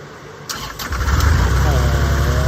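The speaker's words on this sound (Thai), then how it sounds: "ก็จะลองติดเครื่องให้ดูว่าเสียงเครื่องมันจะเป็นยังไงครับ" A Kioritz 600 sprayer engine starts after a couple of sharp pulls, catching and settling into a steady, loud nearby idle.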